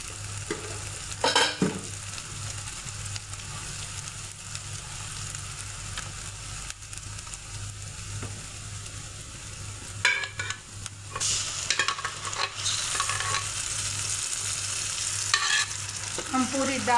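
A spoon scrapes and stirs through thick moong dal in a pan over a steady low sizzle, with a few louder scraping bursts near the end.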